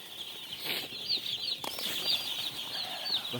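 Broiler chicks in a poultry farm brooding area give a steady, dense chorus of high peeping and chirping, close and continuous, with no voices.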